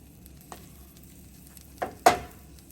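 Spam slices fry in a pan with a quiet, steady sizzle, broken by a few sharper spatters and scraping clicks near the end.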